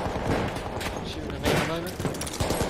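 A dense, crackling fusillade of gunfire in the World War I shooter Battlefield 1, several overlapping shots and bursts at close range in a short stretch, mixed with a voice talking over it.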